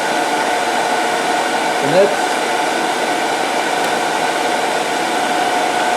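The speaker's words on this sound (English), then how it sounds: "I'll use a spindle gouge here, and I'll put the spindle gouge in that little lip." A lathe spins a wooden top while a spindle gouge cuts it. The sound is a loud, continuous, even whir with a faint tonal hum, running steadily throughout. A voice briefly speaks over it.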